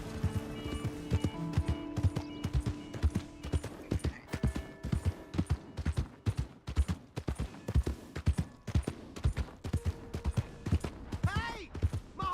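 Hooves clip-clop in a steady galloping rhythm in the video game Red Dead Redemption 2, loud and close, with a voice speaking over them and a brief horse whinny near the end.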